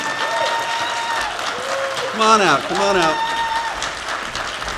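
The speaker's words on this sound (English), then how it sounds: "Bring them a round of applause." Audience applause and cheering as storytellers come on stage at a mental health storytelling event, steady and moderately loud throughout, with a man calling out over the clapping.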